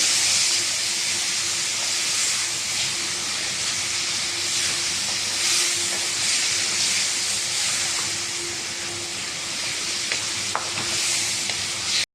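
Finely chopped tomatoes sauté in oil in a pan for a squid fry, giving a loud, constant close-up sizzle and hiss with occasional stirring scrapes throughout and no talking.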